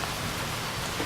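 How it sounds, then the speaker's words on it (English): Steady rain falling outdoors on a dry summer day, a dense even patter of drops that fills the short stretch at moderate level with no voices. "We got a little rain today."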